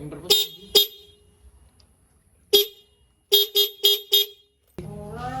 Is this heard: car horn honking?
yes